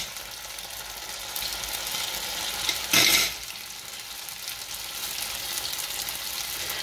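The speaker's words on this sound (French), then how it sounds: "On va venir y déposer les nems." Chicken spring rolls (nems) frying in hot oil, a steady close crackling sizzle throughout with a brief louder hiss burst as rolls are set into the pan, no talk.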